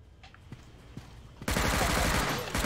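A small green SMG opens fire in the mobile shooter Unkilled, starting abruptly after a few quiet clicks and continuing as a loud, rapid, evenly pulsing burst of automatic shots.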